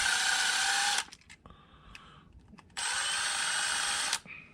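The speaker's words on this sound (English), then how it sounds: "We're just gonna get these screws out." Small battery-powered driver tool backing screws out of an electrical cord plug, two steady high-pitched whirring runs of about a second each separated by a brief quiet gap with light handling noise.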